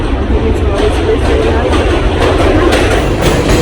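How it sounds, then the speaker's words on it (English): A subway train bound for Staten Island rolls along with a loud, steady rumble and rhythmic rail clacks that pulse through the carriage, with no voices over it. "I'm hopping on this train, going to Staten Island."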